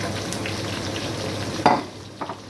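Chopped onions tipped into a hot pot of mutton curry, sizzling steadily with a sudden louder hiss and stir partway through, then a couple of softer clatters.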